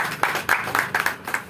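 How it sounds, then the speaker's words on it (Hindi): A crowd at a Vitascientica business gathering claps in several short, loud bursts of applause with brief gaps between them, with no speech over it. "एक बार अपने लिए जोरदार ताली।"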